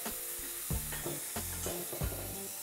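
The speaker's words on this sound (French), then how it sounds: "Maintenant, je vais ajouter les cèpes avec le jus." Porcini mushrooms with their juice go into a hot pan for a risotto, a dense steady sizzle broken by a few stirring scrapes and thumps of the spoon, close and with no talking.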